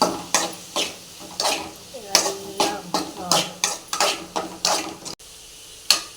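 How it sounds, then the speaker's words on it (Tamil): Onion and tomato fry on a high flame, heard as rhythmic scraping and clanking strokes of a spatula against the pan, repeated about every half second, loud and close, with frying sizzle beneath. "இப்போ நான் இது என்ன பண்ணுறேன்னா நல்லா ஐ ஃபேமில் வச்சு நல்லா ஃப்ரை பண்ணுறேன்"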